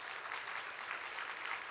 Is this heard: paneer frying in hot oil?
no